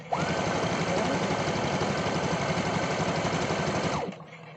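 A sewing machine stitches a folded t-shirt in one steady, loud, rapid run of needle clatter that lasts about four seconds and then stops abruptly, with no talking.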